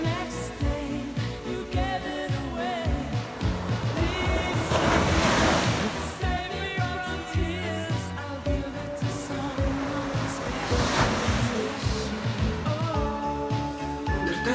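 Sea waves and surf on a Spanish coast, a loud continuous roar with swelling breakers and wind buffeting the microphone throughout.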